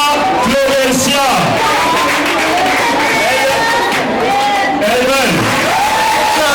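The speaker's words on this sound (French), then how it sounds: "Sous vos applaudissements, nous appelons l'élève Yavansissa Florencia." School ceremony crowd applauding and cheering as a pupil is called to the stage, loud continuous clapping with whoops and voices mixed through it.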